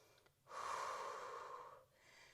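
One long, slow breath is drawn and let out during a Pilates exercise. It sounds close and soft, airy, and lasts over a second, with quieter breathing before and after.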